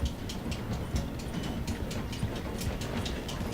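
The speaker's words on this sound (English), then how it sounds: "The train is slowing down to go through the station." A train in the Red Dead Redemption 2 video game rolls steadily past, slowing through a station, with a continuous low rumble and regular clicking of wheels over rail joints, no talk.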